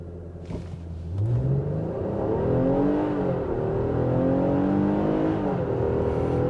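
A 2024 Infiniti QX60 Autograph all-wheel-drive luxury SUV in sport mode launches from a brake-torque start. Its engine note climbs steadily, loud and close, with a smooth rising whir and no talk.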